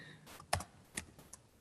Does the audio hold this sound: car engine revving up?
no